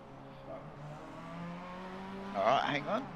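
Race cars in a racing video game drone steadily at a distance, with several engine tones overlapping. Near the end a louder car rises and revs sharply in two short bursts.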